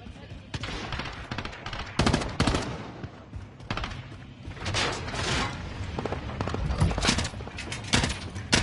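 Rapid bursts of automatic gunfire in Call of Duty Warzone on Rebirth Island, with loud cracks that come in clusters over busy game noise while players talk over it.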